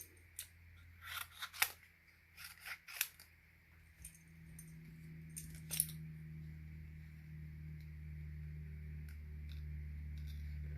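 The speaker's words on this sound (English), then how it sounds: "Then out of the way, I'll quickly fussy cut these." Scissors snipping through card pieces for a handmade thank-you card, a series of sharp close cuts in the first six seconds, then a steady low hum fills the rest.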